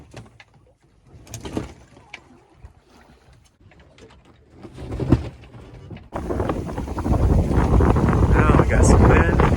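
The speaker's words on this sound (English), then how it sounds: "Got some wind." Wind gusting over a sailboat under sail near the Shetland Islands, buffeting the microphone with faint, inconsistent bursts at first, then swelling into a loud, steady roar that dominates the second half.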